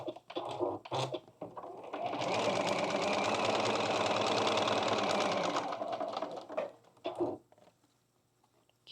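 A sewing machine stitches quilt seams, starting with a few short bursts and then running in one steady, close, rattling hum for several seconds before slowing to a stop.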